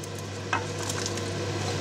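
A spoon stirs a pot of Hutsul-style bograch stew that has just had potatoes added, making a single soft scrape over a steady simmering hiss, close and quiet, with no talking.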